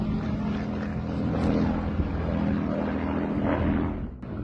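Light aircraft coming in to land with full flaps over trees, its engine and propeller droning steadily and loudly throughout, with a brief drop near the end as it touches down.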